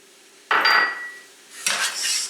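Tourtière meat pie filling with rubbed sage being stirred in a bowl, heard as two clinking, scraping strokes of a utensil against the dish, close and moderately loud in a quiet room.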